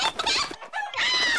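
Hens clucking in a cartoon farmyard, a run of bright, busy squawks that breaks off briefly in the middle and then comes back, close and loud with no talk over it.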